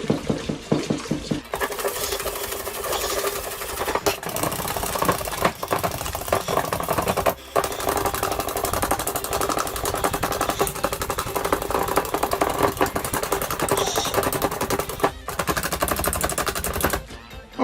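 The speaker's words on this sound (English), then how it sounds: "I'm going to whisk this until it's nice and light and fluffy." A whisk beats cheesecake mixture with sugar, a fast continuous rattling scrape against the bowl, close and steady for about fifteen seconds with a few brief pauses.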